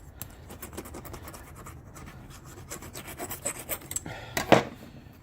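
A brake pad is scraped clean with a hand tool, giving close, dry rasping and rubbing strokes that turn faster and louder toward the end, ending in a sharp scrape.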